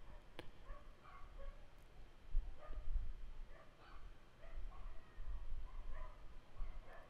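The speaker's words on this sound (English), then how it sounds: "Man, the dogs are loud." Dogs barking in a video game scene of The Great Ace Attorney 2 Resolve, a run of soft, fairly distant woofs and yips repeating irregularly over a low murmur of background noise.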